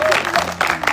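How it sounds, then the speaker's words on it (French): Audience applause at a comedy show, a short burst of dense crowd clapping, loud and close, with voices mixed in. "On a applaudi pour l'Esprit."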